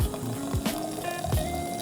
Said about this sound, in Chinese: 现在加水进去预热一下